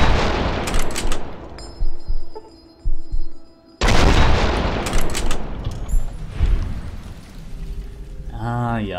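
Bursts of rifle fire crack sharply in quick volleys, separated by short pauses, with a faint electronic tone in between and a voice at the end, in the video game Fallout: Tale of Two Wastelands, fighting fire ants.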